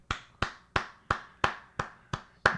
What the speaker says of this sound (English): Can we get a round of applause for that, by the way?